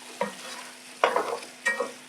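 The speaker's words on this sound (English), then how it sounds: "We're going to put oil here. We'll let it cook kidogo." Oil heating in a pot before making Kenyan ugali, with three brief bursts of stirring and scraping over a soft, steady background hiss.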